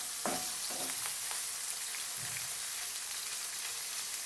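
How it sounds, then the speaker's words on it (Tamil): Paneer roasts in oil and butter in a kadai with a steady, close sizzle. A few stirring clatters come near the start, then the frying hiss carries on evenly. "அதில் நம்ம எடுத்து வச்சுருக்க பன்னீரை நல்லா ரோஸ்ட் பண்ணிக்கணும்"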